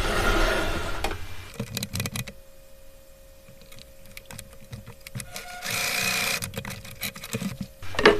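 A sewing machine stitches a straight seam in quick mechanical bursts, with a quiet pause in the middle before it runs again, close by and with no talking.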